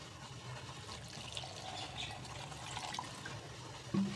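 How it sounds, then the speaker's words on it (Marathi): Water pours in a steady, faint stream into a mixer jar holding grated coconut, with a small knock near the end. "म्हणजे पाणी घालायचे।"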